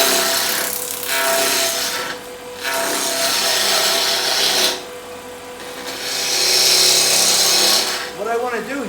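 A wood lathe turning a baseball bat with the inside-out technique, the cutting tool scraping the spinning blank in steady rasping passes broken by short pauses, loud and close.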